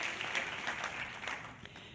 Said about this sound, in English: I think we need an applause for this act of performance